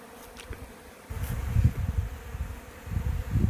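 Honeybees buzz around a hive entrance fitted with a community feeder, a faint high drone over soft low rumbling bumps that grow louder partway through, with no talk.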